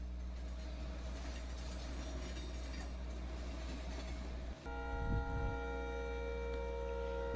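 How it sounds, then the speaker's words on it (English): A Union Pacific potash train rumbles steadily past a road crossing, a low continuous drone, then a brief thump and a shift to a harmonic engine tone; no voices. "The potash train has entered the Union Pacific main line and is shown crossing Mendenhall Road."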